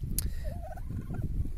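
A turkey gobbles once, a loud warbling call over low background noise, with a brief sharp high-pitched noise just before it.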